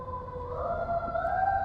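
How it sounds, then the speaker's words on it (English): A large fire truck's siren wails along Pennsylvania Avenue in Washington, DC, a rising, sustained tone heard from a moderate distance over low traffic rumble. "we apparently have a siren coming down Pennsylvania Avenue"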